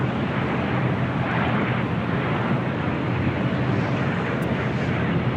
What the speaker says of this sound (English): Also have a Delta 757-300 heading to 24 right for takeoff to Detroit